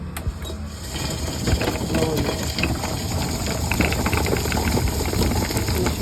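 A sardai-making grinding machine running after being switched on, a loud continuous mechanical grinding churn with rattling, ratchet-like clicks and a watery undertone, steady and close throughout.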